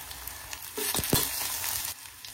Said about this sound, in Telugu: 1 నిమిషం ఇలా ఆనియన్స్ మగ్గేదాకా వేయించుకోండి.